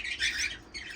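An Irish fancy canary warbles a brief, bright high-pitched trill, a faint and close bird song lasting about a second with no talk over it.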